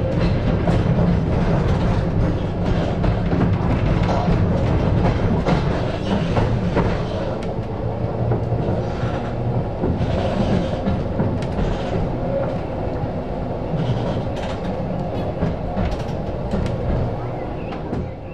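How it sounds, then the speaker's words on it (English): Blackpool 31, a heritage tram built in 1901 and rebuilt in 1918, runs at Beamish Museum with a continuous close rumble, rattling clatter and squeaks over rails, heard from right behind the driver, with voices under the noise. "The tram was built in 1901 and rebuilt in 1918."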